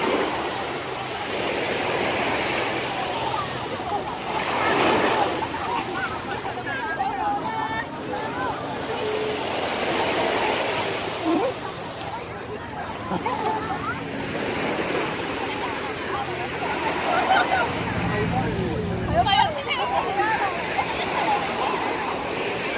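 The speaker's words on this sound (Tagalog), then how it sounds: "Lakas ng alon kaya tignan nyo guys" Strong ocean waves surge and crash in repeated swells at Repulse Bay Beach, Hong Kong, in summer, a loud continuous wash of surf with wind noise throughout.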